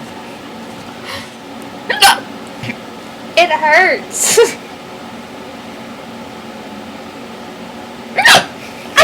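A person hiccups several times in irregular bursts, close and fairly loud, with short spoken words between them.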